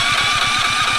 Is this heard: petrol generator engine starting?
yes